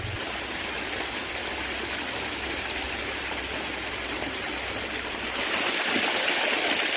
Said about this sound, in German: Ja, der Bach ist herrlich.